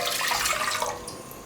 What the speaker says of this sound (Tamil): இந்த பாத்திரத்தில் முதல்ல தண்ணி சேர்த்துக்கலாம்.